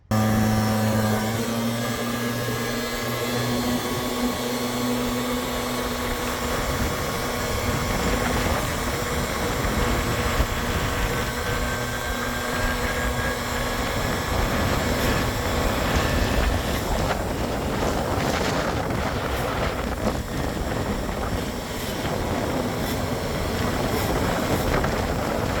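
A stock scooter fitted with a Malossi Wildline exhaust and a 62 jet on a test ride, its engine a continuous, loud buzzing drone with rushing wind noise, steady from start to finish with no talking.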